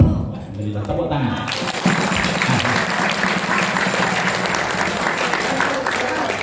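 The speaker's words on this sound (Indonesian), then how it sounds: "tepuk tangan" Audience applause after a speech at a gathering, starting abruptly and swelling into steady, dense clapping from a crowd, with a voice briefly audible at the start.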